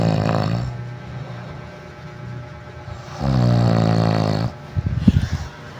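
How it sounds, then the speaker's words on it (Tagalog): A man snoring in deep sleep: a few long, rough, droning snores close by, separated by quieter breathing, with one short burst of sputtering noise near the end. "ang lakas pa ng hilik niya"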